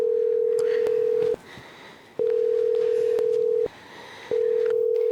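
A phone's ringback tone plays through a speaker: three long, steady tones separated by short silent gaps, with no voices.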